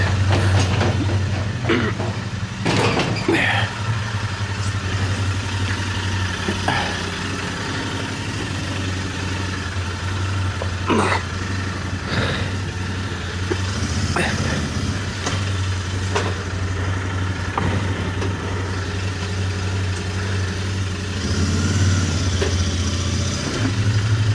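A Royal Enfield Interceptor motorcycle engine idles steadily while warming up, a low rumbling drone, close by, with occasional clicks and knocks over it and no talking.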